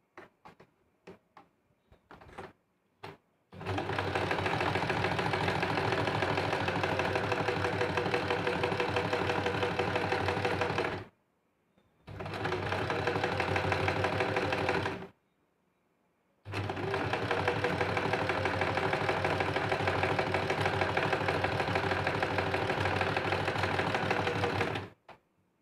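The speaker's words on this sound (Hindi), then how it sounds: "दोबारा से और एक बार सिलाई करते हैं" A sewing machine stitches a princess-cut blouse in long, loud, steady whirring runs, broken by two brief pauses and preceded by a few light clicks, with no voices.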